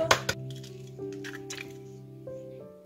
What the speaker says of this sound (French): à ce stade-là, j'ajoute mon œuf